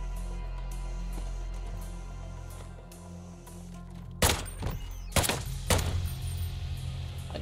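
Gunfire crackles in the top-down shooter Intravenous, a low ambient hum giving way to a few loud bursts of shots and impacts in quick succession, no voices.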